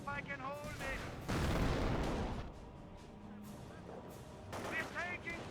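Gunfire and artillery rumble in Company of Heroes, including a heavy burst of blasts in the middle, with short in-game voice callouts before and after the shooting.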